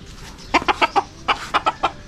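Chickens cluck in a quick series of short, close calls, two bursts of about four clucks each, at a rural farmyard home.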